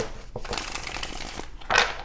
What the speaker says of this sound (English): Go ahead and get a shuffle in here for you.